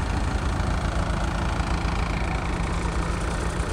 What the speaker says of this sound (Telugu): ఇది రన్ అవుతుంది కానీ కొంచెం చూడండి మోటార్ ఎలా పనిచేస్తుంది